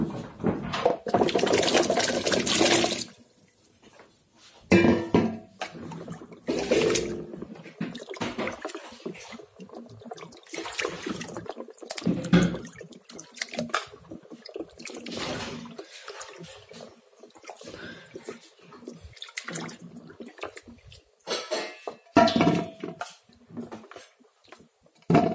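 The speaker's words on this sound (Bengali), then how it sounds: "এখন এগুলো ধুয়ে নেব।" Cut olives for pickle are washed by hand in a bowl of water, giving a steady splashing and sloshing that is loudest at first and then breaks into choppier swishes and drips, close up.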